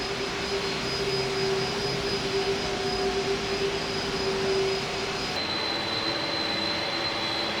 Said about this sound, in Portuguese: a tripulação do National 102 para taxiar, e o avião começa a seguir em direção à pista